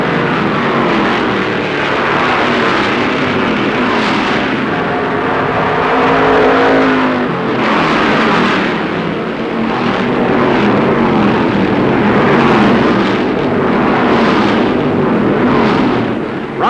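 A pack of 1962 NASCAR stock cars at Darlington's Southern 500 roar away at the start, a dense, loud, continuous engine drone with swelling passes and no voices over it.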